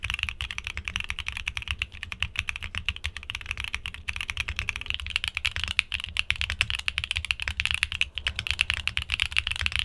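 Rapid, steady mechanical keyboard typing with deep, muffled thocky keystrokes, close and continuous, no talking.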